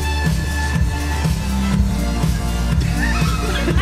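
A drum-and-bass remix plays loud and dense, with steady heavy bass pulses under bright synth lines and no talking.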